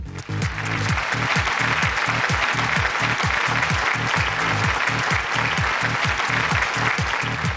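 Business awards audience applauding steadily, many hands clapping in a dense, even roar that holds at full strength throughout without voices.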